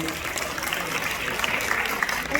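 Audience clapping at a school prize distribution ceremony, a dense, steady wash of many hands applauding throughout the short moment.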